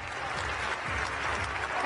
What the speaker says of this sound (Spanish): Un aplauso para nuestro jurado internacional